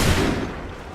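A musket volley in Assassin's Creed 3, a loud, dense burst of massed gunfire at the start that rolls into a fading rumbling decay.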